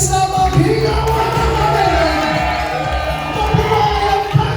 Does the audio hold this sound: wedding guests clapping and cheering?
yes